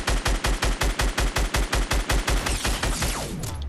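Rapid automatic gunfire in a Fortnite battle, about sixteen sharp, evenly spaced shots in quick succession, loud and close, then a brief ringing tail as the burst stops.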